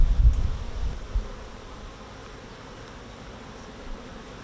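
Honeybees buzz around hive frames being handled by beekeepers, with a dense low drone that is louder and closer in the first second before settling into a steady, softer hum.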